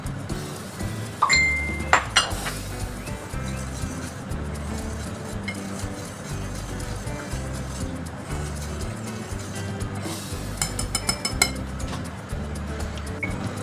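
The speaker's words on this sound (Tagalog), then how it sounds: "ihalo natin ang ating dalawang klaseng rice flour. Ito ang glutinous rice flour at ang aking plain rice flour." Glutinous rice flour and plain rice flour being stirred together in a bowl, with a steady soft scraping and occasional light clinks of a utensil against the bowl rim, no talking.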